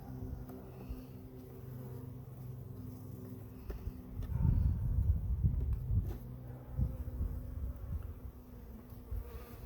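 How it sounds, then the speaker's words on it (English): Honey bees hum around an open beehive being inspected, a close, dense drone that swells louder midway as many bees fly near, with faint handling noises. "and all the bees"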